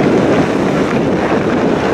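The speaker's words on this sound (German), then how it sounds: "Und der Wind ist mittlerweile doch kräftig, muss ich sagen." Strong wind roars across the microphone on a rocky, sandy Baltic Sea coastal path during a bike ride, a loud continuous buffeting rush with no talking.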